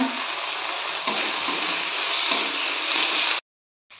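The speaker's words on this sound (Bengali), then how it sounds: "মশলাগুলো আমার ভালো করে ভেজে নেওয়া হয়ে গেছে, এবার এর মধ্যে আমি টমেটো কুচিগুলো দিয়ে দিলাম।" Chopped tomatoes hitting hot fried spices in a pan for a prawn and cauliflower curry, a loud, steady close sizzle with a couple of sharp bursts, then sudden silence.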